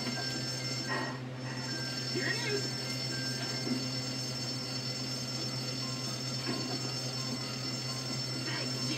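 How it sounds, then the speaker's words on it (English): Continuous electronic fire alarm ringing steadily through a school building in the video game Bully Scholarship Edition, loud and unbroken beneath faint game ambience. "Fire alarm."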